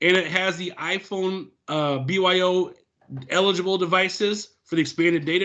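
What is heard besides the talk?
No everyday noises stand out.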